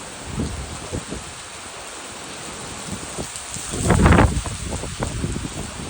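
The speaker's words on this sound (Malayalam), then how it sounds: "ഇന്നത്തെ വേനൽ മഴയാണ് ഞാൻ നിങ്ങളെ കാണിച്ചുകൊണ്ടിരിക്കുന്നത്" Steady summer rain hisses under strong wind gusts, with low rumbling buffets swelling loudest near the end.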